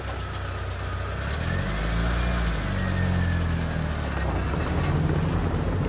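A motor vehicle engine rumbles steadily and grows slightly louder before easing off, a continuous low drone with some background hiss.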